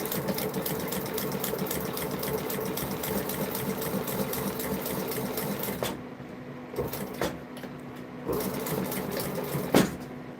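A sewing machine stitches steadily and close for about six seconds, then stops, leaving a few short whirs and clicks over a low room hum.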